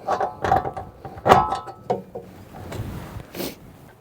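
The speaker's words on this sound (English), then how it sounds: "Put a wrench on there. And there goes that bolt all the way out." Wrench work on the rear end of a Nissan Z31: a run of sharp metallic clicks and clanks as a bolt is turned and pulled out, close and fairly loud, with short pauses between bursts.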